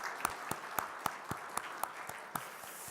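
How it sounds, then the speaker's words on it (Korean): Sparse, evenly spaced claps from a church congregation at a revival meeting, about ten distinct hand claps in a slow rhythm, soft and somewhat distant. "우리 박수로 환영하겠습니다."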